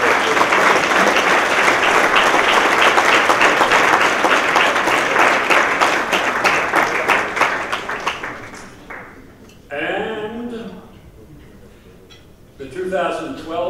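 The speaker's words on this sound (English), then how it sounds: "Please give them a big thank you, applause." An award ceremony audience applauds loudly for about eight seconds, the clapping thinning and fading out, after which a speaker's amplified voice talks in the hall.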